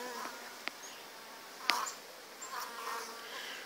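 Honeybees buzzing softly and steadily around an open top bar hive during an inspection, with a few brief louder passes close by.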